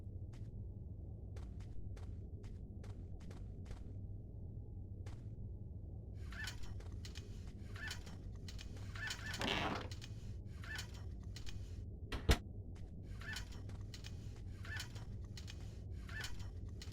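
Birds in an old woman's aviary in the game Fahrenheit: repeated short chirps and clucking calls, fairly faint and scattered, over a steady low room hum, with a single sharp click partway through.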